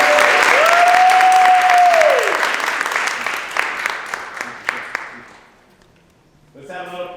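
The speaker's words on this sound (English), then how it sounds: "Let's give them a round of applause." A crowd at a City of Paterson employee appreciation day event claps in loud, sustained applause that gradually thins into scattered claps and fades, with a sustained tone early on and a voice speaking at the very end.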